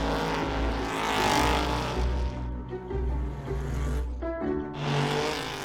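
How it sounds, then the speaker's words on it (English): A Sunbeam Lister Tiger race car powers out of a chicane at the Goodwood Revival, its engine roaring loud and close, dipping briefly and then rising again as it accelerates past. "A wonderful Sunbeam Lister Tiger kicking up the dust as it comes out of the chicane"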